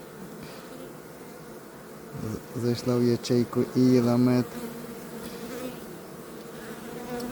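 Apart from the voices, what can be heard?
honey bees buzzing in hive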